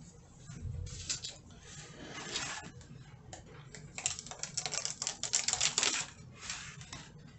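A Cricut cutting machine prints a Valentine card, giving uneven mechanical clattering and whirring bursts that come in quick rhythmic runs, close and moderately loud, with no talking.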